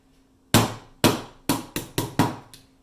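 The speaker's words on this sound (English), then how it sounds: "Personally, I like to use my slide as a hammer" Six sharp metallic knocks, near and loud, as a Glock pistol slide is used as a hammer to drive out a pin, the blows coming in an uneven rhythm with short ringing decays and no talking.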